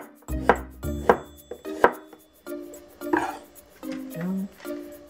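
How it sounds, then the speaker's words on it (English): Ginger sliced with a knife on a cutting board, several distinct close chops in an uneven rhythm with some ringing resonance between strokes. "for the ginger, I'm just going to cut it into a few slices"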